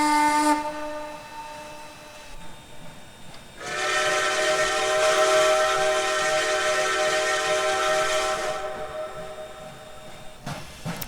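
A steam locomotive whistle on the Strasburg heritage railroad in the Trainz 2019 simulator, a short toot followed by a long sustained chord-like blast of several seconds, loud and alone.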